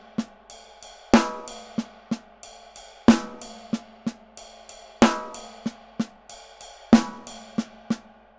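A drum kit plays an inverted six-stroke pattern with accents from the left hand, loud cymbal-and-drum hits recurring about every two seconds between quieter rapid strokes, close and steady with no voices.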